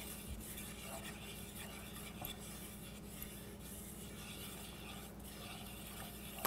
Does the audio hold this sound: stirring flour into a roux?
yes